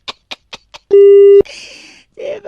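A telephone busy tone after a call is hung up: a short steady beep stands out clearly, preceded by a few quick clicks and followed by brief noisy sound.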